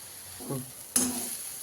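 Grated carrots for carrot halwa fry in a pan, a faint sizzle with a spoon stirring and one sharp clink of metal against the pan, close by.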